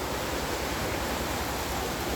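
Floodwater released from Karkhasa Dam rushes through Hazara Town, a loud, constant broadband roar with no breaks, like a torrent heard up close.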